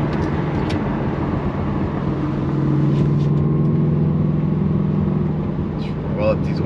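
A Subaru WRX STI with an AWE Touring exhaust rumbles in a low, steady drone from inside the car, the tone rising slightly as it pulls, continuous throughout.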